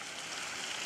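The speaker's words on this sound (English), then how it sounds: "a week-long heavy downpour in Mombasa has continued to wreak havoc in the city" Heavy rain pours steadily over Mombasa during a week-long downpour, a dense, even hiss of water filling the whole second without breaks or voices.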